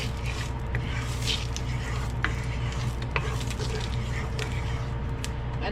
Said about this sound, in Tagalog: ito naman pong ating minarinate na baka ang ating pong piprituhin